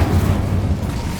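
Confringo and Incendio spell blasts in Hogwarts Legacy erupt as a loud, heavy rumbling burst with deep low-end boom, sustained through the brief moment.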